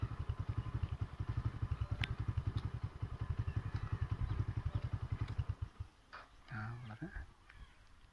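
A white vehicle's engine chugs with a fast, even, thumping idle, then cuts out abruptly partway through, leaving quiet background with people talking nearby.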